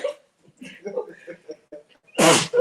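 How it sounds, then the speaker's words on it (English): A single sharp sneeze bursts out loudly at the end, following a stretch of speech on a Christian talk show. "sneeze. I want to say sneeze."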